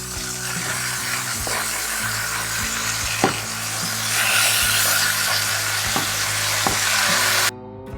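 Jamaican-style chicken drumsticks sizzle steadily in a hot pan, with several scraping knocks as they are turned over partway through; the frying noise stays loud and close throughout, then cuts off abruptly near the end.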